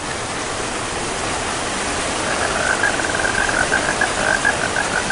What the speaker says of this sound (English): It will actually rain.